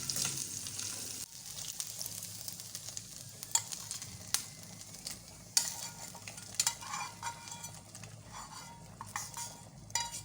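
Steady sizzling of dry fruits roasting in ghee, with a spoon scraping and stirring against a pan and a few sharp metallic clinks.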